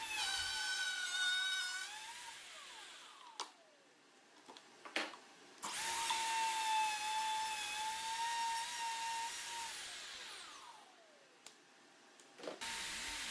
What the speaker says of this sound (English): right now I'm routing in a channel which will allow all the wires that get the power to the individual strips to be hidden